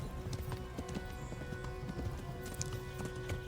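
Hooves clip-clop steadily as a horse runs in the medieval game Kingdom Come Deliverance, a fast, even beat close up over a busy background, with a faint whinny mixed in.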